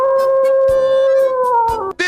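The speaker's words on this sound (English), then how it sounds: "This is the sound of a wolf." A wolf howl from a cartoon sound-guessing challenge: one long, loud, steady tonal wail that holds for about two seconds, then dips and breaks off at the end.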